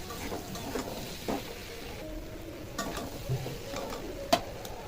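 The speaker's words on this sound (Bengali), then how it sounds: "ভালোভাবে মশলার সাথে কষানো হয়ে গেছে।" Spices with turmeric, salt and tomato are stirred and sautéed in a pan for a prawn and bamboo-shoot curry, a soft continuous sizzle broken by occasional spoon scrapes and taps against the pan.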